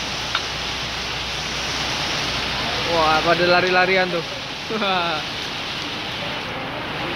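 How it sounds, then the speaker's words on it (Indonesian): Rain falls in a steady, hissing wash outdoors. A few people talk briefly over it partway through. "Hujan nih sebetulnya."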